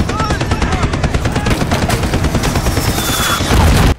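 Dense, continuous gunfire from a battle scene in The Boys Season 3, a rapid machine-gun fusillade that stays loud throughout and swells at the end.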